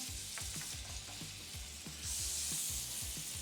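Butter and olive oil sizzle steadily in a hot pan, a close, continuous frying hiss that swells a little toward the end, with no one talking.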